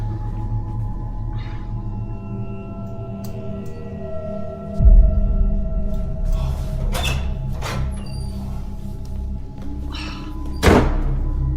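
A heavy thud like a door slamming shut, followed by a second, softer bang a few seconds later, over a low rumbling background.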